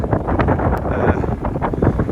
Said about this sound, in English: A bit windy again.